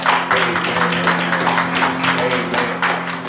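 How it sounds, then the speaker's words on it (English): At a Sunday morning worship service, a church congregation claps in a steady rhythm of evenly spaced beats to praise God, over a sustained low tone and voices. "Won't y'all just give God a hand clap of praise?"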